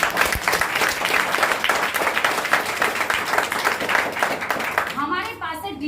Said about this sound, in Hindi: तालियां बजा लो हमारी कंपनी है।